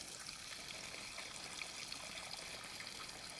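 Water runs from a garden hose, a faint, steady trickling hiss that holds evenly throughout with no talk over it.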